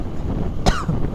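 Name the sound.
cough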